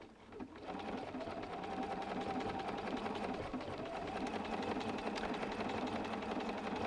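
A sewing machine stitching white Gutermann 50 weight polyester thread through red appliqué quilt fabric, running as a steady, close, fast mechanical hum and rapid needle clatter without a break.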